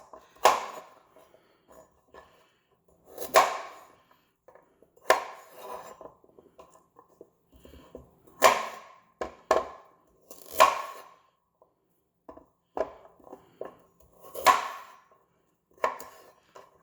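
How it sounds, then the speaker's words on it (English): A knife chops the ends off carrots on a cutting board while Korean bulgogi is being prepared. Sharp, distinct cuts land in irregular bursts with pauses between them, close and fairly loud, with no talking. "So I cut the ends."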